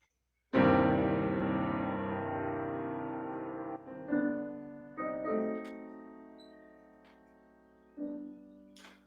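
Piano playing the opening motive of Beethoven's Sonata Pathétique: a loud, thick low chord that rings and decays, followed by several softer sustained chords and a final resolving chord, solo and close.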